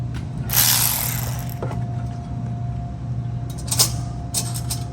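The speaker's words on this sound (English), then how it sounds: "So I'm gonna get my ratchet." A ratchet wrench clicks in short bursts, close by, over a steady low hum in a drag racing garage, with quiet gaps between the bursts of pawl clicking.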